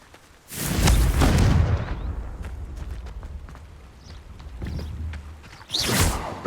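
Confringo blasting spells in the Hogwarts Legacy video game land in three loud explosions: a long booming roar early on, a softer burst midway, and a sharp blast near the end.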